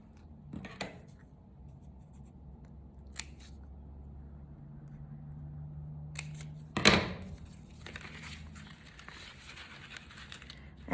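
Scissors cutting little slits in paper while assembling an explosion memory box: a few sharp, close snips spaced apart over a quiet background, with faint paper rustling.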